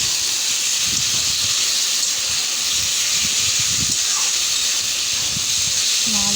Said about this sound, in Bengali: মশলা ধোয়া জলটাও দিয়ে দিলাম।